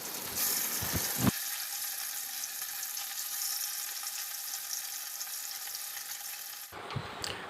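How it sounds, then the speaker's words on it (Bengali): Loud, steady sizzling of salt-and-turmeric-coated paneer pieces frying in hot mustard oil, bursting in suddenly after a few soft clatters and cutting off near the end. "তেলটা গরম হয়ে গেলে এর মধ্যে নুন হলুদ মাখানো পনিরের টুকরোগুলো দিয়ে দেবো"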